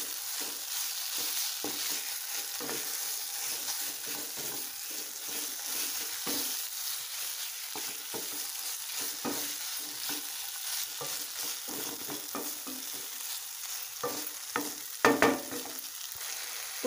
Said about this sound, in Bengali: দিয়ে ভালো করে মশলার সঙ্গে পটলগুলো মিক্স করে নেব।